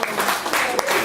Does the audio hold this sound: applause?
yes